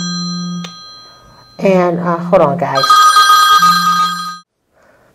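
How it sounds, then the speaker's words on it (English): A mobile phone rings with a bright, repeating electronic tone that starts after a person speaks and continues loudly for about two seconds before cutting off, with a low hum beneath it. "That was my phone ringing."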